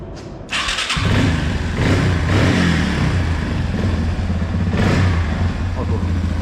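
A Yamaha Big Wheel three-wheeler engine idles loudly and close, revving up in a couple of surges.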